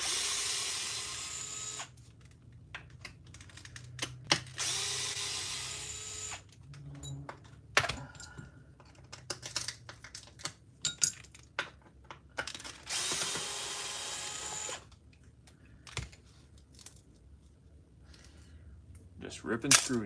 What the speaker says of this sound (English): Just ripping screws out.